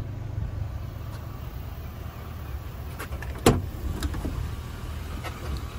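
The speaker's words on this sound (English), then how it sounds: "Truck still running like a champ." A 2000 Chevrolet Silverado LS Z71 pickup with a 5.3 V8 idles nearby as a low, steady rumble, broken by a few sharp clicks and knocks.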